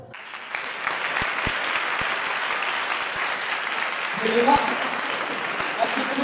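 A church congregation clapping hands during a gospel service, sustained close applause throughout with a few sharp individual claps standing out early and voices calling out over it toward the end.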